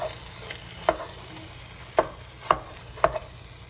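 Cream cheese being stirred and broken up in a hot pan for shrimp Alfredo, with a steady low sizzle and four sharp spoon scrapes spaced at irregular intervals, close and fairly loud, no talking.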